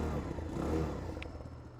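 A Boom Vader 125cc motorcycle, a Honda Grom clone, idles on a chilly day, a low, steady, slightly uneven engine putter heard up close at moderate loudness with no talk.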